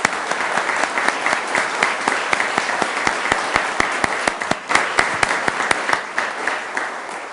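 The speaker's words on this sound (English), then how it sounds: "let's give them a round of applause" A council ceremony audience gives sustained, fairly close applause, a dense run of individual claps lasting the whole stretch with no talk over it.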